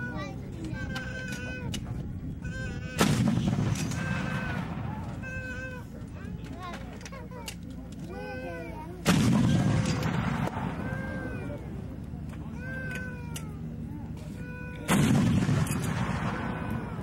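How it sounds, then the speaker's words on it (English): Three heavy booms of high-explosive artillery rounds at a Fort Bragg firing demonstration, spaced about six seconds apart over a steady outdoor murmur of voices and animal-like bleats. "The high-explosive rounds are being fired by the"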